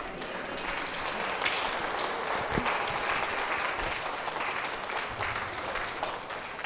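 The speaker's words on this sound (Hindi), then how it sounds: "तो यीशु ने माफ किया तो उसको एक ताली देंगे कि नहीं?" Steady, dense applause from a congregation during a church service, loud and continuous across the whole stretch with no talking over it.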